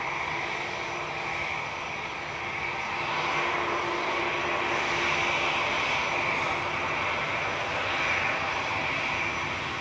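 A London Heathrow A380 airliner touches down at Manchester Airport, heard as a steady, loud jet roar that holds across the whole stretch, heard at a distance, with no talk over it.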